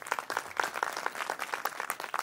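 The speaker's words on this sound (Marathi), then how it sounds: "आमचे व्यंकटेश महाराज फड, त्या सगळ्यांसाठी जोरात टाळी वाजा महाराज." An audience at a village kirtan in Nandapur claps in brisk, uneven bursts. The handclaps are close and distinct but fairly soft, and no one speaks over them.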